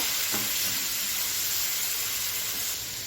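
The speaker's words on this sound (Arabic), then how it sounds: "نزيدو نحمصو الزيتون تاعنا مع الشامبينيون البصل والثوم في لا مارغارين هكذا" Olives, mushrooms, onion and garlic sauté in melted margarine with a loud, continuous close-up sizzle and hiss that stays steady throughout, with no speech.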